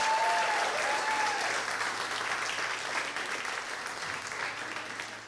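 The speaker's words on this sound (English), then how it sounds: "Let's have a round of applause for our expert on toe fungus." A theatre audience at an improv comedy show gives a full round of applause, a dense, sustained clatter of many hands heard from within the room, slowly tapering over about five seconds.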